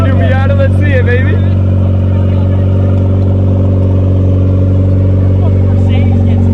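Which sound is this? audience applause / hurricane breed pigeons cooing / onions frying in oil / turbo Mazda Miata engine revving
turbo Mazda Miata engine revving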